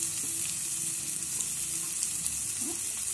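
Beans, cabbage, carrot, green chilli and potato frying in a pan for egg rice, giving a steady, close sizzle throughout with faint crackles and no talk.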